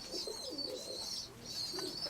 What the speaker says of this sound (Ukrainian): Зараз покажу вам голубят, які понароджувалися.